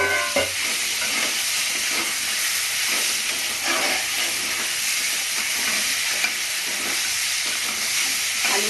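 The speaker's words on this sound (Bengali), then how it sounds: "আমি এবার পুঁই শাক আর আলুটা দিয়ে একসাথে আমি কষবো" Malabar spinach and potato stir-fried together in hot spiced oil for a Bengali-style crab curry, a steady close sizzle and hiss with scraping stirs throughout, no voices.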